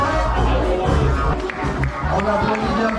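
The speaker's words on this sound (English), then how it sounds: "On applaudit bien fort." Spectators at the finish of the Swiss Peaks 360 ultra race in 2024 cheer and shout as a runner nears the line. The crowd noise is dense and steady, with voices and chatter mixed in, but clear clapping does not stand out.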